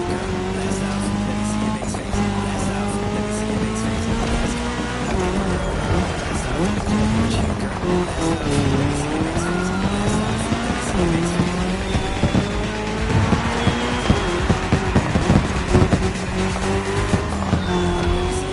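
Race cars in The Crew Motorfest during a cross-terrain race, engines revving loudly and continuously, pitch rising and falling through gear changes, with tires squealing and a commentator talking over the roar.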